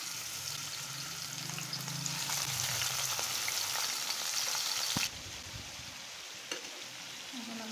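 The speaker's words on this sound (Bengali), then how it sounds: "এখন আমি সুন্দর মতো মাছগুলো ভেজে নিব।" Fish frying in a pan alongside a separate pan of pointed gourd, a steady close sizzle with a few faint clinks, dropping slightly quieter partway through.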